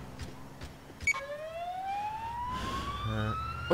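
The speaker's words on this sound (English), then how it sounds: "My siren's going off" Ambulance siren in the GTA LCPDFR video game, NSW Ambulance Service Australia style, starting abruptly with a rising wail that climbs steadily and stays loud, with a short burst of rapid yelp pulses near the end over vehicle rumble.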